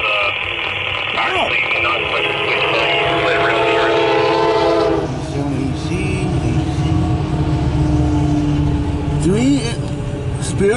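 A CSX mixed freight train led by three SD70AC locomotives rolls past close and loud with a continuous rumble and wheel noise, its horn blasting in long tones over the steady roar.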